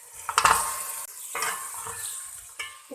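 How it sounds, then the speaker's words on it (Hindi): Beef pieces dropped into hot fried spices in a cooking pot for yakhni pulao, a loud sizzling burst at the start, then stirring scrapes and crackling that ease off and flare again briefly near the end. "अब हम इसमें गोश्त डाल देंगे।"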